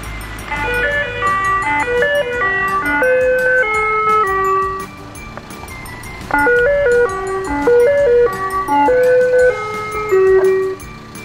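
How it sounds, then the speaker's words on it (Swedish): An ice cream truck plays its loud, continuous chiming jingle melody, bright repeating notes carrying on for several seconds with no talk. "Glassbil."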